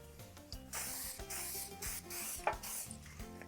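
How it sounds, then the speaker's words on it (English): Several short hissing bursts of cooking spray on a metal baking sheet, with brief pauses between sprays, close and fairly loud. "I'm going to spray a baking sheet with cooking spray."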